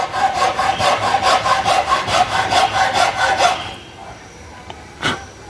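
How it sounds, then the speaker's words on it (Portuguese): A hand saw cuts a chamfer in wood for a wooden plant stand with steady, rhythmic back-and-forth rasping strokes, close and loud, then stops and is followed by a single knock. "Ele tá cortando o chanfrado aqui, ó."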